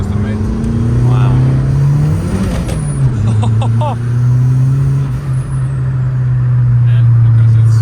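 A Saab 900 Turbo with a custom 3-inch downpipe and full exhaust drives along, its engine droning loudly and rising in pitch as it accelerates, with people talking over it.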